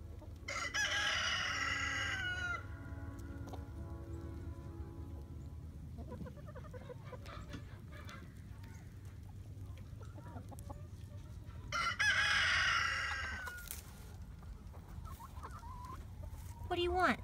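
Chickens cluck steadily in a coop while a rooster crows loudly twice, once near the start and again midway, with a person talking softly in between.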